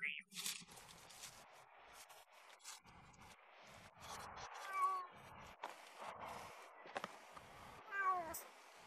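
A cat meows a few times on a street, its short calls rising over scuffing, crunching noises and bursts of nearby talk.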